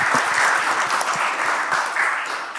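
Audience applause at the close of a Q&A session at Tehnopol's DIANA launch event in Estonia, a steady, fairly loud burst of many hands clapping together that holds evenly for a few seconds.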